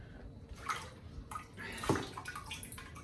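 Water splashing and streaming as a whole turkey is lifted out of a pot of water, a short burst of pouring and dripping close by, with no talk.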